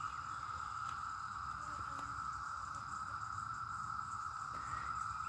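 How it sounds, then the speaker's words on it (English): Cicadas drone outdoors in a garden by former woodland, a continuous, even, high-pitched buzz that holds steady throughout at moderate level. "cicadas have been trying to attack me all morning"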